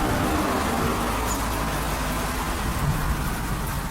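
Steady rain falls in a dense, even hiss that fills the whole stretch, with a low rumble underneath and no voices.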